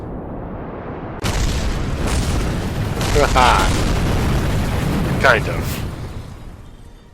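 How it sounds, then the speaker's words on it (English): A sudden loud blast followed by several rumbling, booming explosions in a video game, with someone talking and laughing over them. "Explosions."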